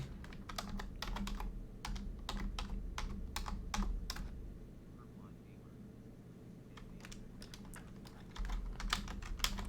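Fingers type on a computer keyboard in quick, uneven bursts of close clicking keystrokes, pausing briefly in the middle before the tapping resumes.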